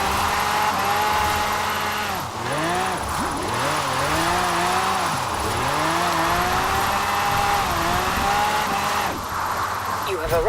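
A Quartz Regalia Type-D in Forza Horizon 4 drives and drifts, its engine note repeatedly swooping up and down as the revs rise and fall, with tire squeal underneath, loud and continuous.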